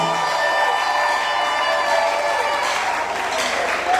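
Loud, dense clapping and cheering from a congregation at a religious gathering, a continuous roar of applause with faint tonal sounds underneath.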